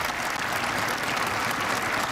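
Stadium fans applaud a Texas Tech player on senior day at a college football game, a dense, even wash of clapping from a sparse crowd, with no break.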